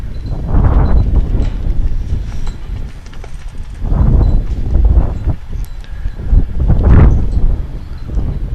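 Gusts of wind buffet an outdoor lawn bowls tiebreaker at a major tournament, arriving as several separate low, rumbling surges against the microphone with quieter gaps between them.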